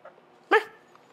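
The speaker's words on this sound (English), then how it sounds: "You's the most crying ass dog." A dog gives a single short whimpering cry, close and fairly loud, standing alone against a quiet room background.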